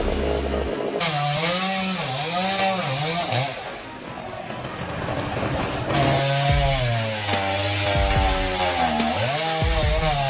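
A chainsaw cuts down a tree in a residential area, its engine revving loud and close in repeated rising and falling surges, dropping briefly to idle before roaring back under load.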